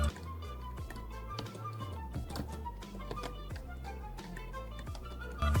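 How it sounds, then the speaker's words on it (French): Soft clicks from a quiet RGB computer keyboard pressed during gaming, irregular light taps close up and faint, running continuously over a low background hum. "Il y a aussi le son du clavier quand on est en jeu."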